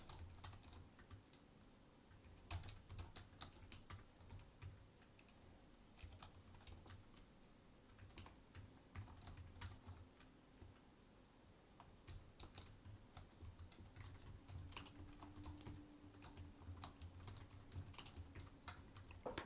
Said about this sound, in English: I'm typing all of this in the complete darkness.